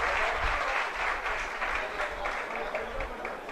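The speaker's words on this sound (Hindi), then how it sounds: "जोरदार तालियां ग्वालियर जैन समाज के लिए।" An assembled crowd giving loud applause for the Gwalior Jain community at a religious gathering with Sudha Sagar Ji Maharaj, a steady dense wash of clapping throughout with some voices underneath.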